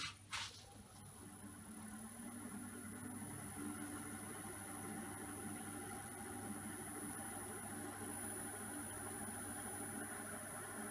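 A wood lathe spins a bowl blank held with hot melt glue at a slow speed of about 720 RPM, giving a steady, even motor hum with a faint high whine throughout, heard alone.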